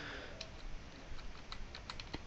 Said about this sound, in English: I'm going to repeat that by pressing Command D on my keyboard.